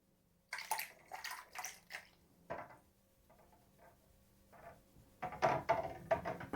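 A 142-gram crown is lowered into water and lifted back out, giving a few soft splashes and sloshes followed by louder clattering water movement near the end. The sounds are quiet and close, with no talking.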